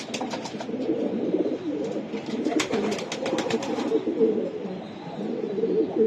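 Racing pigeons coo steadily and close by in a loft, with scattered wing flutters and a faint voice in the background.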